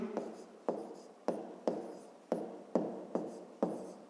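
Handwriting strokes scratch across paper while a fifth-grade maths exercise is written out, eight evenly spaced sharp scrapes, each fading quickly, close and clear with no talking.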